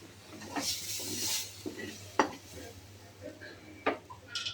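A spoon scrapes and clinks against a pot while spice paste is stirred into aloo biryani rice, in a few irregular knocks and scrapes over a low steady hum.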